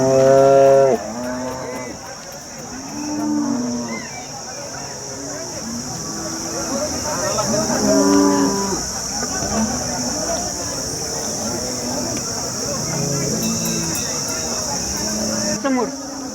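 Cattle moo repeatedly at a crowded cow market in Sangola, Maharashtra, with HF dairy cows, several loud lowing calls overlapping near and far amid a steady hum of crowd chatter.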